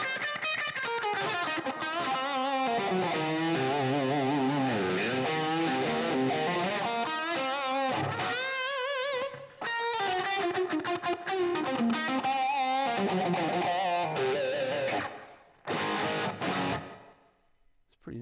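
An electric guitar runs through a Line 6 POD Go with distorted amp tone and reverb, sustained chords and bending melodic notes played loud and near, with brief gaps and a trailing reverb tail toward the end.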